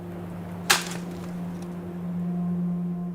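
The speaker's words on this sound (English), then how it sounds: "which is the sound of a branch breaking." A single sharp crack of a tree branch snapping, loud and close, with a brief splintering tail that fades over steady low background hum.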